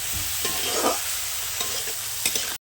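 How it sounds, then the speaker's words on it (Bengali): Eggplant slices for begun bhaja frying in oil and being stirred, giving a steady close sizzle with occasional scraping strokes that ends abruptly. "বেগুন ভাজিটা হয়ে গেছে, এখন নামিয়ে নেব"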